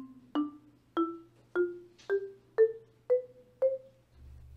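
Seven short, muted knocks from marimba dead strokes, with the mallet left on the bars to stop the ring. They fall in a steady rhythm and each note is damped almost at once, close and alone.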